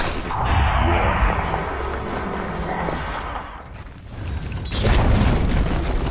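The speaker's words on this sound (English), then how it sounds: "Dire's top tower has fallen." A tower collapsing in Dota 2 lands as a deep rumbling boom with grinding, mechanical crumbling, rising again after a brief dip, loud and close beneath the game's ambient noise.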